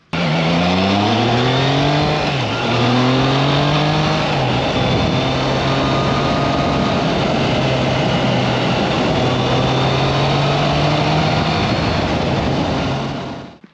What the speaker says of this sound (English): it's got that real distinctive Triumph howl